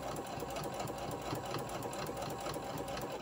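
A sewing machine back stitching a small scrunchie, its needle running in a fast, steady mechanical rattle, close and continuous without pause.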